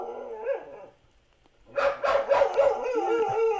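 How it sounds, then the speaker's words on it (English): A dog lets out a short bark, goes quiet, then breaks into a loud, drawn-out howl with wavering pitch, close by. "you'll hear it barks. It's got a nice howl."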